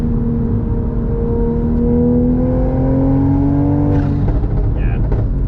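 A tuned 2020 Toyota GR Supra pulls hard with a loud, steadily rising engine drone, then a rapid crackle of exhaust pops near the end, captured close from inside the car.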